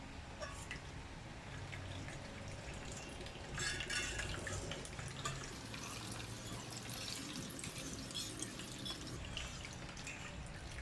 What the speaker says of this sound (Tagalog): Lalagay na natin yung ating evap